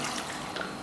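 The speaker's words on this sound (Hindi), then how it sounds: "इसके अंदर हम 1 कप पानी डालने लगे हैं" A cup of water is poured into a pressure cooker during a beef kofta recipe, giving a soft, continuous splashing rush of liquid, faint and close, with no talk over it.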